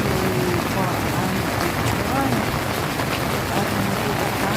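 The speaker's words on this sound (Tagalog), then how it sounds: "atong makita karon, guys, ning video kung unsa ka kusog sa ulan diri" Heavy rain pouring down in Surigao City, a dense steady hiss of falling water with gusty wind noise, someone speaking over the downpour.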